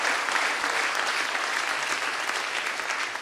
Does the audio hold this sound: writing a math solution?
no